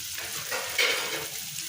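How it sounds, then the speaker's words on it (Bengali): Masala being stir-fried for a Bengali egg bhuna curry, a short steady sizzle with a spatula stirring through the pan, close and alone with no voices. "আবার ভালো করে কষবো।"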